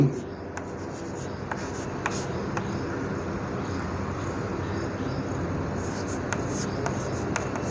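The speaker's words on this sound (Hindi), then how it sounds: "जैसे कि अभी एक उदाहरण में लिखता हूँ" A teacher writing an example on a board during a Hindi grammar lesson, a steady close scratching and rubbing of the pen or chalk with small taps, under a constant room hum.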